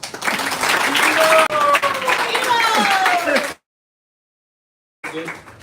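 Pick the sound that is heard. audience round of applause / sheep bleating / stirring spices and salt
audience round of applause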